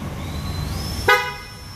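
A short, thin horn toot from a Honda Gold Wing motorcycle sounds once over a low rumble of engine noise, with a faint whine lingering beneath.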